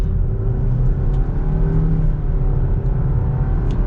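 A 2021 Nissan Rogue SV Premium with a CVT accelerates in sport mode, heard from inside the cabin as a loud, steady engine drone and road rumble, with no speech.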